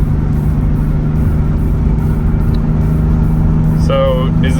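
Nissan 300ZX from 1991, recently revived after sitting abandoned, cruising at highway speed on light throttle, with a steady low engine and road drone throughout and a person talking over it.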